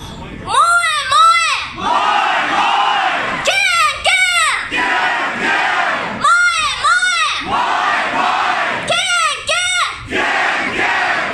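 A crowd at a concert at Paradise Rock Club in Boston shouts a call-and-response chant in repeated paired bursts over steady crowd noise and a droning band.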